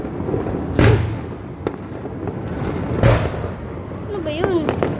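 New Year firecrackers burst inside a garage, two sharp, loud explosions about two seconds apart, each with a brief crackling tail, while people chatter nearby.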